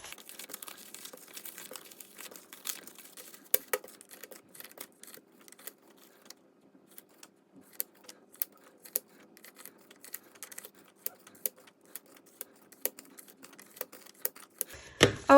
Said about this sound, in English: let's just shuffle all of this money up a little bit